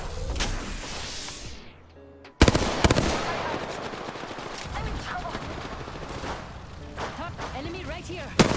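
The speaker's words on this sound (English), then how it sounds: "They're shooting at me." Rapid bursts of automatic gunfire from a ranked online shooter match crackle loudly, broken by a brief lull before heavy firing resumes with sharp individual shots, while players talk over the action.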